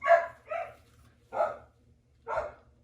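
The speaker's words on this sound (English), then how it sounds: "If you hear my dogs in the background" A dog barks four times in an uneven rhythm, two quick barks, a pause, then two more spaced apart, fairly close and distinct.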